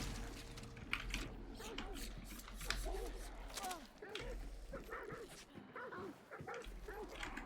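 Faint dog barks and whimpers in a Hunt: Showdown game scene with dogs and zombies, mixed with low rumbling noise and scattered effects, fairly quiet and distant.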